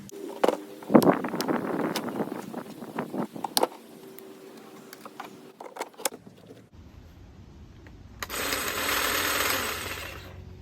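A DeWalt 20V MAX lithium-ion cordless 22-inch hedge trimmer starts up and runs steadily with a fairly quiet electric whir for the last couple of seconds, after a stretch of clicks and handling noises while unboxing.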